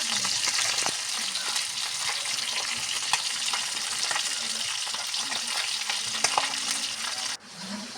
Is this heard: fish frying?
yes